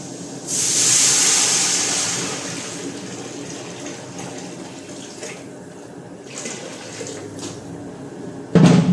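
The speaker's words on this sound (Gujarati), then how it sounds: "હવે આપણે નાખશું પાણી" Water is poured into a cooking pot on the way to a rice and pigeon pea lentil dish: a loud, close rushing pour near the start that settles into a softer, steady hiss and trickle.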